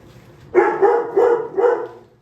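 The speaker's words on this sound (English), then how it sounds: "Excuse the dog." Four sharp dog barks in quick succession, loud and close, evenly spaced with short gaps between them.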